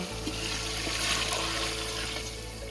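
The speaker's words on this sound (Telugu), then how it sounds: "కొన్ని నీళ్లు పోసుకుందాం." Water pours steadily into a biryani pot, a continuous close splashing gush lasting the whole moment with a low hum beneath and no talking.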